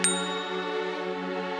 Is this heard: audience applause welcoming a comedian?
no